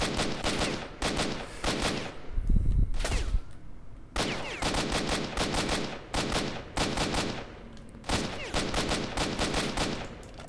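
Loud automatic gunfire in the video game Stalker: Shadow of Chernobyl, several long rapid bursts separated by short pauses, with no talking.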